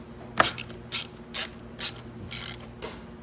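Ratchet wrench tightening the starter bolts on a Venom Grizzly 125cc ATV, six short bursts of rapid clicking spaced about half a second apart, close and fairly crisp, with no talk.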